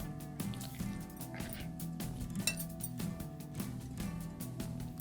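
Pieces of cut chicken go into a bowl amid clinking dishes and utensils, with sharp knocks and scrapes coming irregularly at close range and no speech.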